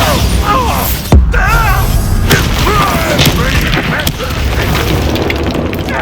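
Bombarda spell blast in the video game Hogwarts Legacy: a loud, sudden boom followed by rumbling debris and crackling effects, with game music and voices running underneath throughout.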